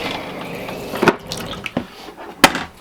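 Pink RV antifreeze runs out of a camper's water lines in a shower during winterizing, giving a trickling, splashing flow with a few sharper spatters and drips over a low background.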